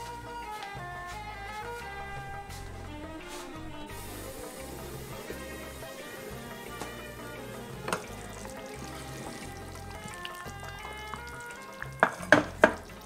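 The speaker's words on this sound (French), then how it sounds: "Donc on termine la cuisson toujours à feu doux. Et on n'oublie pas de mélanger régulièrement." Bulgur simmers in a pot over low heat while a utensil stirs it, giving soft scraping and faint sizzling under background music, with a few sharper clinks of the spoon against the pot near the end.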